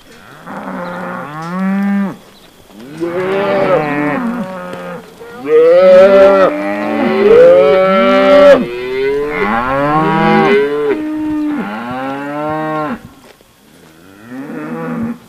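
Cattle moo on a ranch during calving season, a run of long, deep, drawn-out calls, loud and close, coming one after another with short pauses between them and no talking.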